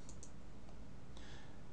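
A few sparse clicks of keys being typed on a computer keyboard, faint and quick, spread across a quiet room.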